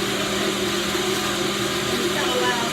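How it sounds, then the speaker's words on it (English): A blender whirs steadily and loudly while mixing a vegetable and fruit smoothie, a constant motor roar that holds throughout without pauses. "the blender was going"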